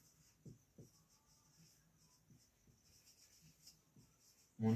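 Pen scratching across paper during a tenth-grade maths lesson on quadratic equations, a few soft strokes and taps at close range, with a loud bump at the very end.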